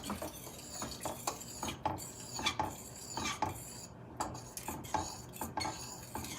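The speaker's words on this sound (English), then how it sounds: "and stir that up" A spoon scrapes and clinks around a pot of tomato orzo soup made with a 32-ounce carton of broth, producing steady rhythmic stirring strokes with metallic knocks against the sides, close and clear with no talking.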